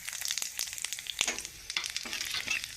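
Whole spices fry in oil for a Bengali moong dal with rohu fish head: dried red chillies, a bay leaf, cumin seeds, cardamom, cloves and cinnamon crackle and pop in short sharp bursts over a faint, uneven sizzle.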